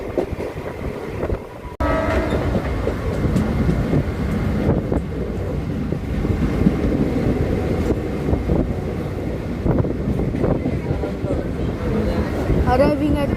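A Mumbai slow local train runs from CSMT toward Vashi, a loud, steady rumble of carriages with rhythmic wheel clatter, wind buffeting and a horn, heard from on board.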